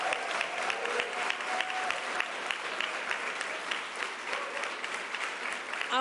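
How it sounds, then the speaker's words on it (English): An audience at a New York governor's bill-signing event applauds: dense, sustained clapping from many hands at a steady level for the whole stretch, without anyone speaking over it. "Let's give him a round of applause."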